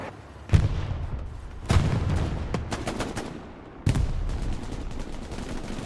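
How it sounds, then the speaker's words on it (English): A medium tank in the World War II shooter Hell Let Loose fires smoke rounds, with three heavy booming shots at irregular intervals over constant distant gunfire and battle rumble. "Looks like smoke rounds from the medium tank."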